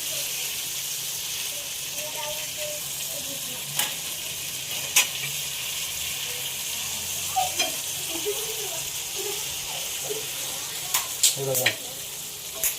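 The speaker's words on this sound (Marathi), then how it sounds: "फ्राय मच्छी पण आपली शिजते इथे एका साईडला." Kupa fish frying in a pan, a continuous close hissing sizzle with occasional spatter pops and stirring clicks, as a voice speaks briefly over it.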